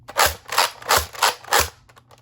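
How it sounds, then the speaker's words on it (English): A Nerf Modulus Mediator pump-action blaster slam-fires foam darts, four rapid evenly spaced pump-and-fire clacks up close, each a sharp thwack with plastic rattle, then quiet. "you can hold down the trigger and keep priming the blaster, and every time the priming handle hits the forward position, it'll fire"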